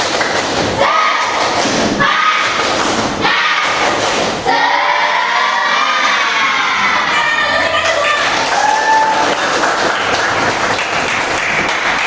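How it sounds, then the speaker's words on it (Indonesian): A classroom of students doing a rhythmic spirit clap, with loud thumping claps in patterned bursts, shouting and crowd noise, and a sustained group chant or call in the middle. "kita tepuk semangat dulu biar semangat ya"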